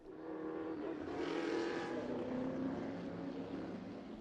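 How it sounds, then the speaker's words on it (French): A 1964 Porsche 904 GTS race car at the Le Mans Classic gives a steady, loud engine roar that holds evenly for several seconds with no other sound. "Voilà une Porsche 904 GTS de 1964."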